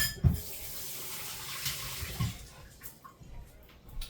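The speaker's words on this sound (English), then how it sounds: "Let me wash my hands again." A kitchen tap runs steadily while hands are washed under it during the making of bacon and cheese deviled eggs, with a soft broadband water hiss and a few splashy bumps, fairly close and alone.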